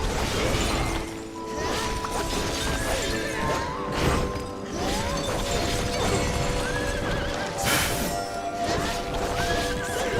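A horse in a video game neighs and whinnies several times over continuous game noise, with clattering and brief crashing sounds mixed in throughout.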